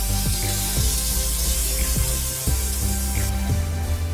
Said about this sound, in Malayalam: ഇനി താളിക്കാൻ വേണ്ടി എണ്ണയിലേക്ക് ഉള്ളിയും വേപ്പിലയും ഇടാം